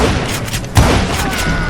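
Gunfire in the Western shooter Call of Juarez Gunslinger: a loud, booming, near shot stands out amid a dense wash of battle noise, a rough, continuous roar with no clear speech.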